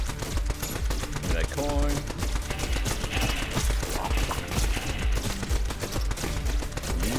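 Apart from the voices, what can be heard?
gunfire from shooting in the video game Neon Abyss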